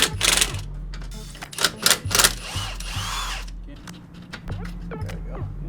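An impact tool on a car's suspension rattles in short bursts while removing a shock bolt from an AE86, working under and between nearby voices with a low engine-like hum beneath.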